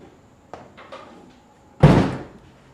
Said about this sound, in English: I gotta close that other door over there